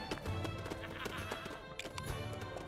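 In the Lego Pirates of the Caribbean video game, a horse's hooves clip-clop in a quick, uneven rhythm over a busy background of game music and effects, moderately quiet.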